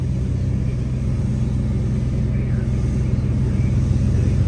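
Steady droning rumble of a 1984 Mercedes 300 D diesel engine held at raised RPM, continuous and loud with no distinct rev peaks, running while its air conditioning is being checked.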